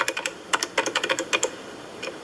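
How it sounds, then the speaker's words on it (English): Keys on a computer keyboard clack in quick, uneven bursts as an email address is typed, close and crisp with short pauses and no talk. "just type in the subscription address of the list you want to subscribe to"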